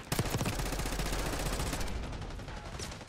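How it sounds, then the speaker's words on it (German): Rapid automatic gunfire in Call of Duty Black Ops 6, a dense stream of loud, quick shots lasting the whole stretch and thinning slightly toward the end, with no voices. "Digga, schieße ich schnell"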